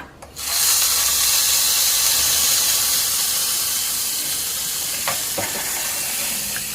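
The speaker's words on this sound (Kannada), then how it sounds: "ಸಾಸಿವೆ, ಕರಿಬೇವಿನ ಸೊಪ್ಪು, ಇಂಗು ಒಗ್ಗರಣೆ" Loud, continuous sizzling and crackling of mustard seeds and curry leaves hitting hot oil, starting abruptly and holding steady with a few sharper pops near the end.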